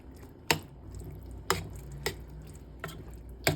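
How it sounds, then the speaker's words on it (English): A pot of chili stirred as it cooks, five sharp spoon knocks against the pot at uneven intervals over a soft bubbling, close with no talk. "just give it a good stir as it's cooking"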